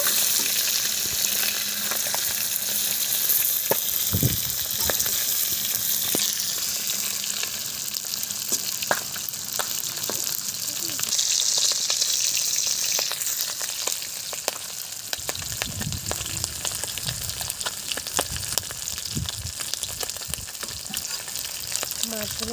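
Magur catfish frying in oil in a village kitchen, a loud continuous crackling sizzle with occasional scraping and louder bubbling toward the end, no talking.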